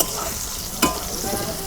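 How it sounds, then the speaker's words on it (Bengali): Pointed gourd fries in plenty of oil, giving a steady, close, bright sizzle with one sharper clatter of stirring partway through. "এই দেখো আমি অনেকগুলো আজকে তেল দিচ্ছি, পটল ভাজতে আমার ভালো লাগতেছে"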